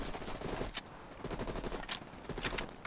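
Sniper gunfire in the shooter game Call of Duty Black Ops Cold War, a series of sharp, fairly quiet shots and bursts cracking irregularly over a busy battlefield background.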